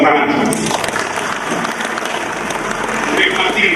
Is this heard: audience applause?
yes